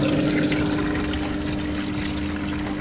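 Biomaster canister filter on a large planted aquarium, giving a steady close hum with a soft continuous trickle of water running over it, unbroken for the whole span.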